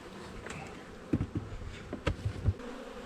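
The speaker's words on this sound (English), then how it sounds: "The bees are a-flying." Honey bees fly and buzz outdoors on a fine day near hives, a continuous hum with individual insects swelling louder as they pass close by the microphone.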